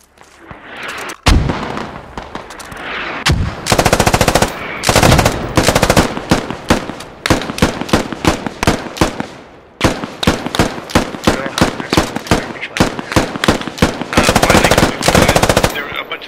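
Sustained machine gun fire in the tactical shooter game Squad, set in Afghanistan with US Army forces: loud, close rapid bursts of automatic shots in long rhythmic volleys broken by brief pauses, with no talking.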